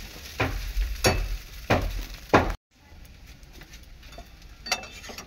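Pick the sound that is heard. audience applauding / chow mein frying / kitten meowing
chow mein frying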